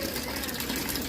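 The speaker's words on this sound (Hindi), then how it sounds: "और इधर चला दी है मैंने मशीन" A home washing machine hums steadily while filling with water for a load of curtains and bedsheets, a constant churning wash of noise throughout.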